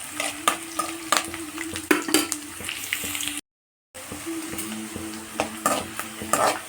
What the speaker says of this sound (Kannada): ಈಗ ಸ್ವಲ್ಪ ಚೆನ್ನಾಗೆ ಈರುಳ್ಳಿ ಬೆಳ್ಳುಳ್ಳಿ ಎಲ್ಲ ಎಣ್ಣೆಗಳಿಗೆ ಫ್ರೈ ಆಗಬೇಕು